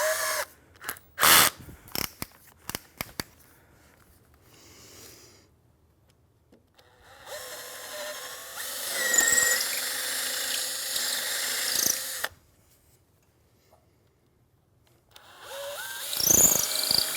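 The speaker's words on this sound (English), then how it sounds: "we're going to drill into the frame where we've marked it" Power drill boring holes into a Pilates reformer frame, with several short high-pitched bursts early on, then a long sustained whining drill run and another burst at the end, close and loud with no talking.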